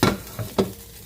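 Pork sizzles in a frying pan in three short, close pulses, as if stirred or turned, with a soft hiss between them.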